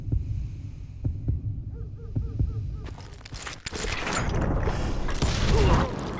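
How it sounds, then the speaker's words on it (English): A heartbeat cue in a video game gunslinger duel, several soft rhythmic thumps in the opening seconds that give way to a louder burst of gunfire and game noise. "When you hear the heartbeat, you can draw your gun first"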